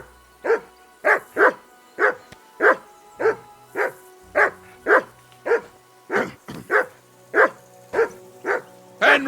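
A dog in the video game Kingdom Come Deliverance 2 barks over and over in a fast, loud, close series of sharp yaps, roughly sixteen barks with short gaps between them.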